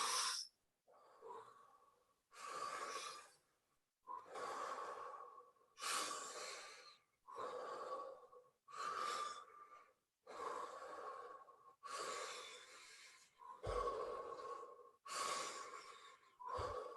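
Deep circular breathing through the mouth with no pause between inhale and exhale, about a dozen loud, close, rushing breaths in a steady rhythm, each separated by a brief near-silence.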